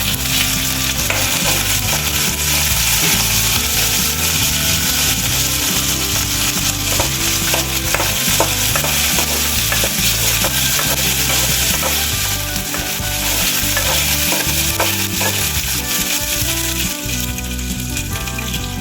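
Garlic, tamarind and curry leaves sauté in a pan of tomato chutney with a steady, loud sizzle, while a spatula repeatedly scrapes and clatters through the mix. No one talks.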